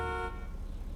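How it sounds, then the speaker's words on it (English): Horn of the Ocelot Penetrator sports car in GTA V, a single short synthetic tone that cuts off abruptly after a fraction of a second, leaving faint engine rumble. "Horn sounds very weird."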